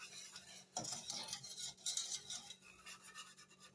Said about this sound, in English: Add them a little bit at a time, stirring with the whisk